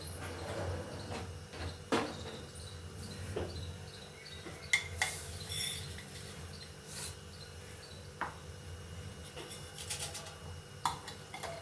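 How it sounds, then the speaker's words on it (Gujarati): Mustard seeds hit hot oil in a kadai while making Gujarati poha, giving a faint, steady crackle and sizzle with scattered small pops and a few utensil clinks, close and quiet. "તેલ ગરમ થાય એટલે આપણે રાઈ નાખીશું।"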